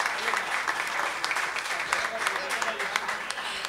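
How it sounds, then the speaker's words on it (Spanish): Hearty applause from a salsa event audience in Medellín honoring a declaimer, dense clapping throughout with a few voices mixed into the crowd. "Fuerte el aplauso para el maestro Tony Escobar"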